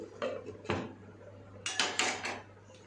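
A lid is set onto a pan of mushroom cashew curry in a home kitchen, making a few clanking knocks: one early clatter, then several close metallic taps in quick succession. No one speaks.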